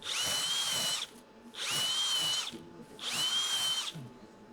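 A power drill spinning a cylinder brush whirs in three separate bursts of about a second each, with short quiet gaps between them. It is close and fairly loud.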